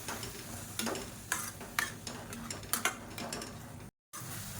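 Chopped tomatoes with masala powder are stirred and sautéed in a pan for a village-style chicken rasam. A soft sizzle runs underneath while a spatula scrapes and knocks against the pan every second or so, with no talking.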